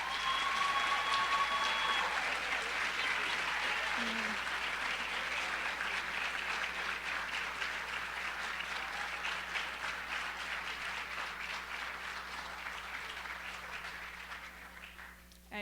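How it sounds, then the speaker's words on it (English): An audience at a high school National Honor Society induction applauds new inductees in steady, dense clapping that holds for about fifteen seconds before tapering off, with faint murmurs underneath. "Could everyone join me in a round of applause for our new inductees?"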